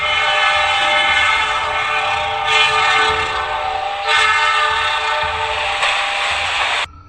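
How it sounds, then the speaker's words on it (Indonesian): Train rushing past at high speed, loud and close, with a rumbling roar under several long horn blasts that cuts off abruptly at the end. "tersambar kereta api yang melintas dengan kecepatan tinggi"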